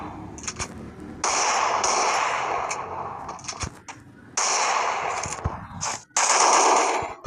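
Gunfire in the Free Fire video game, loud bursts of rapid shots separated by brief single cracks and short gaps, close and without talking over it.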